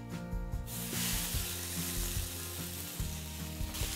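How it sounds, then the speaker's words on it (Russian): Carrots and meat sizzle steadily in two frying pans heated on an induction hob, with a hiss that swells as the food goes into hot pans. Soft clinks and stirring knocks sound under the frying. "Сюда я отправляю морковь. В эту сковороду я отправляю мясо."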